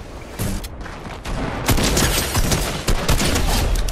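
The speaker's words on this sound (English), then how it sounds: "I'm hearing shots" Gunfire in the video game Fortnite comes as bursts of loud, sharp shots clustered over a few seconds against a noisy game background.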